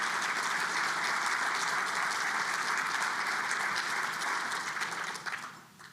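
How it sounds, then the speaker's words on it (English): A room full of people at a community forum clapping loudly and steadily for sponsors, the dense clatter holding even before fading out near the end. "Please give them a round of applause."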